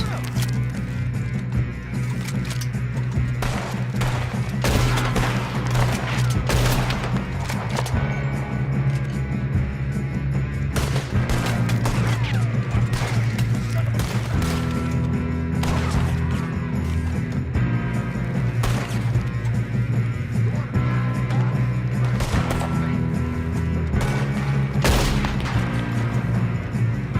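Gunfire in a Red Dead Redemption shootout, scattered shots and booms sounding continuously over a dense game soundtrack with voices and hoofbeats mixed in.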